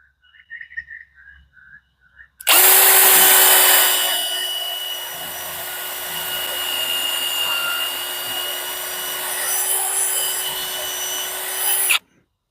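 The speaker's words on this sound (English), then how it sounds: "drilling a hole with a power tool" A power drill boring a hole while building a pergola runs continuously for about ten seconds, a loud steady whine that drops slightly in pitch as it bites, then stops abruptly.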